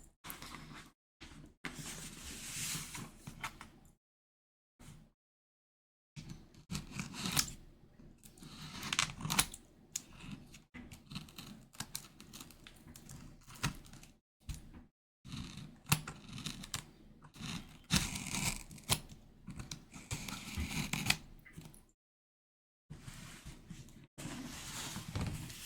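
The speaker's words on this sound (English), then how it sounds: "I'm gonna open this box with these little scissors." Little scissors snip and tear open a cardboard collectible box up close in a quiet room, a series of crisp cuts, crinkles and rustles broken by short silent pauses.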